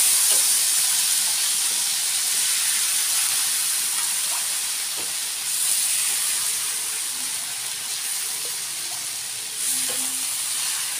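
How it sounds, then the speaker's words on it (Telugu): Rava dosa batter sizzles and hisses steadily on a hot oiled pan, a dense continuous frying crackle with small pops, close and fairly loud throughout. "ఇలా కలుపుకొని ఇప్పుడు అట్టు పోసుకోవాలి."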